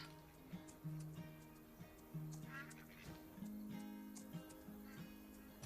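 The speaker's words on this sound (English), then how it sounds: "Let's give the ducks and things some housing. I hear them, they're crying." Ducks quack in the farming video game Farm Together, a series of short nasal calls repeating irregularly over soft background game sounds, faint and alone without talk.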